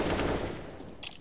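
Automatic gunfire in the video game CS:GO comes as a loud, rapid burst of shots up close, then trails off into quieter clicks.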